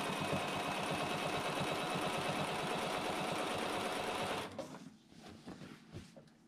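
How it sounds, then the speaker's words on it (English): A sewing machine stitches binding onto a quilt, running as a steady fast whirring rattle for several seconds before stopping, followed by a few quiet handling clicks. "So I'm going to sew and leave a space about 12 inches or so."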